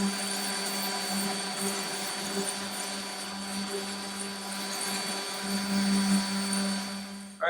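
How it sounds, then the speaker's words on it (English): A steady droning electric sander hums throughout against a metal toolbox, with a constant motor whine and slight variations in load. "we're gonna sand it down real quick."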